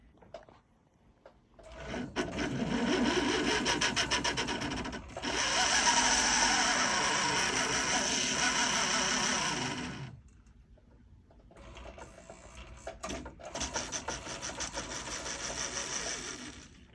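A jeweler's burr spins up in short whining bursts while cutting open the seat of a ring setting for a diamond, loud and close, with pauses between passes.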